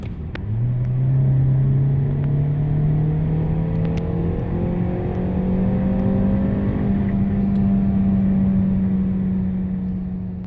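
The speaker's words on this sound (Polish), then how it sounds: "Ale jak już się wgryzie w asfalt, to naprawdę nieźle przyspiesza." A Peugeot 508 SW GT PureTech 225, front-wheel drive, accelerating hard: a loud, steady engine drone climbs in pitch through a long pull, with no talking over it.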